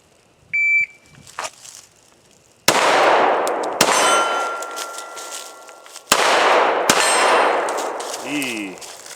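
Pistol shots ring out in a speed drill, each sharp crack followed by a bright metallic clang as steel targets are hit, a few loud reports spaced apart with ringing decay between.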